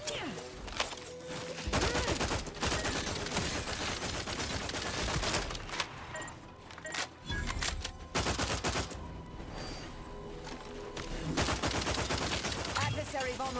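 Automatic gunfire from The Outer Worlds 2 video game, loud sustained bursts of rapid shots with brief pauses, joined by impacts and crashes, while a synthetic voice talks over it.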